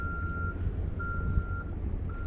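Big truck reversing through nearly foot-deep road snow during a Newfoundland blizzard, its steady backup beeper repeating about every half second over a low engine rumble, with no talking.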